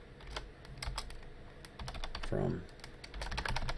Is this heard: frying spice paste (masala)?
no